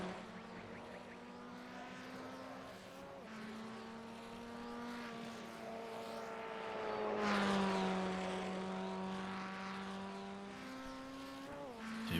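A Formula Ford race car's engine buzzes and rises and falls in pitch through the corners at Lime Rock Park in a racing video game, swelling louder midway, with a faint tyre squeal.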